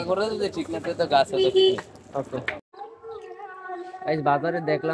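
Two or three pigeons give soft, low coos in a short pause between stretches of nearby talk.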